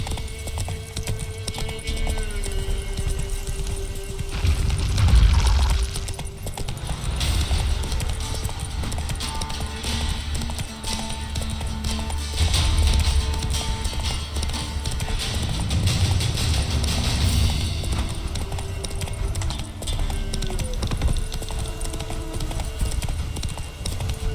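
Roach, the horse in The Witcher 3, gallops with a steady rapid clip-clop of hooves under game music and ambience, with an occasional snort or whinny.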